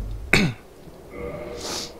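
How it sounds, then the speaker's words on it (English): A single sharp, close cough bursts out at the start, followed by quieter throat noises and faint background sound from a Dark Souls game session. "I don't know why I'm coughing so much"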